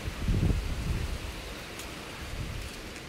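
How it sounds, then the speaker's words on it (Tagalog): Strong wind gusts through an outdoor winged-bean garden at harvest time, with a low buffeting rumble strongest at the start and then settling into a softer, steady rushing hiss, with no talking. "Ang lakas ng hangin."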